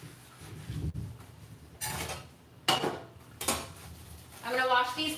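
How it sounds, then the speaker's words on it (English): Dishes, pots and pans clatter in a home kitchen as they are washed, with several bursts of clinking cutlery and ceramic, then running water and scraping near the end, some faint talk in the background. "I'm gonna wash these dishes"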